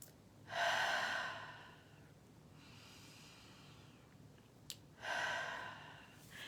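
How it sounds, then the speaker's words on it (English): Two slow, deep breaths are drawn close to the microphone, each a long airy inhale, with a quieter exhale between them and a small click in the pause. "let's just take a couple of nice deep breaths and settle in"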